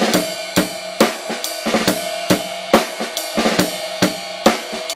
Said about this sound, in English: I want you to add a little ghost note after your first snare hit